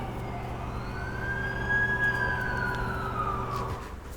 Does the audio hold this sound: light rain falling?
no